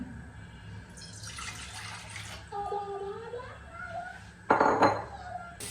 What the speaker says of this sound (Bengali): এখন এতে দিয়ে দিচ্ছি পানি